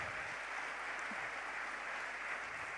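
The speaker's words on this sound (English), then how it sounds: "please give them a round of applause" Dense, even applause from an audience at a Google product forum in Hyderabad, a steady wash of many hands clapping without pause and no voices over it.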